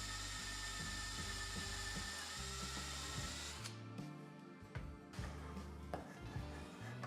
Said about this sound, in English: I drill the breadboard ends at the drill press